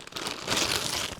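A gift package being unwrapped: close, soft paper crinkling and rustling lasting about a second.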